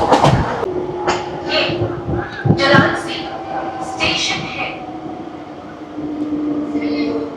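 Howrah–Amta local train pulling into a station in rural West Bengal, with a steady low drone, intermittent clatter and brief brake or horn-like tones. Voices and station bustle are heard throughout.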